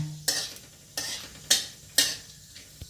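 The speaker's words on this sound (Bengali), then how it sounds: "আর 3খানা ছোট এলাচ, 6টা লবঙ্গ, 1 ইঞ্চি দারচিনি দিলাম তেলে, দিয়ে সামান্য নেড়ে নিলাম" Cardamom, cloves and cinnamon sizzle in hot oil in a kadai, with about four distinct scraping strokes of a spatula over a quiet background hiss.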